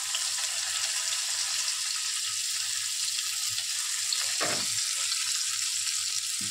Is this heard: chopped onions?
yes